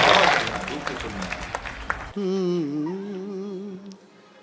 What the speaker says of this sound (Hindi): एक बार आगे से पीछे तक मुझे तालियां बजा करके एहसास करना